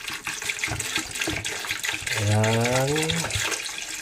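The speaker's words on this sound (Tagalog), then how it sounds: "Lagyan lang natin ng tubig." Water pouring into a cooking pot already holding onions and tomatoes for a Filipino fish stew, a rising gush that fills out midway, heard under a short spoken word.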